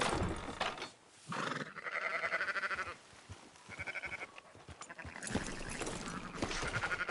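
Sheep bleating in the video game Red Dead Redemption 2: several drawn-out, wavering bleats close by, with short pauses between them and no talking.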